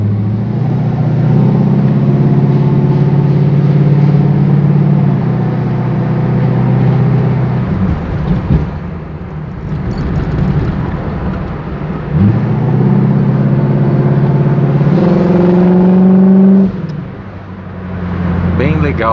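A 1974 Chevrolet Camaro with a 350 V8 drones loud and close, its engine note climbing steadily and then dropping at each gear shift, three shifts in all, while voices talk faintly in the background.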